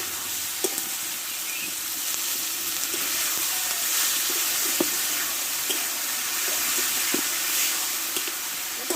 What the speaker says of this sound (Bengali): এবার অল্প একটু আমি জল দিয়ে দেবো